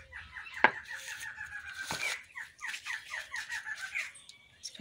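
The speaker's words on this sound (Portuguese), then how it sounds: "Esse passarinho tá animado hoje." A small bird sings outdoors in lively bursts of bright chirps and short trills, repeating every second or so at moderate distance, with a couple of sharp knocks in between.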